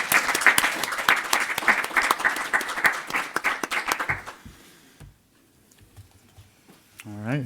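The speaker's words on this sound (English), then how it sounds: "let's give our round of applause one more time for our panelists" A conference audience claps for the panelists, a dense burst of applause lasting about four seconds before fading into scattered claps and room noise, with a brief voice at the end.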